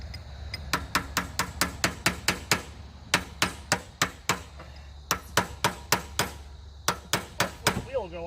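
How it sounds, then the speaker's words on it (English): Sharp metallic hammer strikes on a chisel, knocking a locking collar off an axle, ring out in quick bursts of several blows each, separated by short pauses, close and crisp. "I'm going to get the hammer and chisel and knock this locking collar off there"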